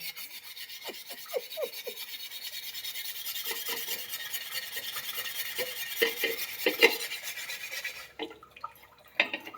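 Steady rasping scrub of a tawa griddle being cleaned, a continuous gritty rubbing with intermittent sharper scraping strokes, close and fairly loud, stopping abruptly near the end.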